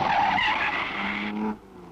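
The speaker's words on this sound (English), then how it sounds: "And this is our Ferrari, with the Aston of George Abacasis just behind." A 1953 Ferrari race car roars past in the Mille Miglia road race, a loud engine blare with a brief screech that drops away abruptly after about a second and a half.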